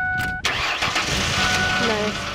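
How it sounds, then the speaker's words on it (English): A car engine cranks and catches right after a brief high tone, then settles into a steady idle, close and fairly loud, with voices talking over it. "Grab the car, car turns on, awesome."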